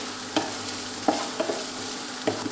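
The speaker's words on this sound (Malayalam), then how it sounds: "ഇനി ഇതിലേക്ക് നമ്മൾ അരിഞ്ഞു വെച്ച സവോള ആഡ് ചെയ്തിട്ട് ജസ്റ്റ് ഒന്ന് സോട്ട്." Chopped onions sauté in a pan for beef curry, a steady soft sizzle with a few sharp scraping stirs of a spoon at irregular intervals, fairly close and with no talk.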